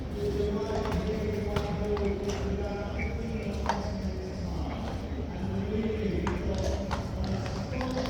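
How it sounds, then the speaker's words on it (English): Horses' hooves clip-clopping on pavement at the King's Guard change in London, a steady irregular patter of many hooves close by with crowd noise around them. "Here come the horses."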